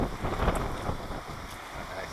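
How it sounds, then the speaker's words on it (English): Strong wind buffets the microphone outdoors beside an old Lansing Bagnall FODR6 forklift after rain, a steady rushing roar with gusty low rumble, no talking. "It's so windy,"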